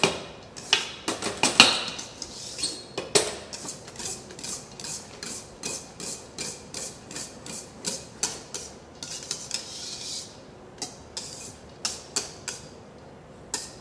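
Mascarpone being mixed into pâte à bombe for tiramisu, a rhythmic series of scraping, tapping strokes of a utensil against a bowl, close and steady with no voices.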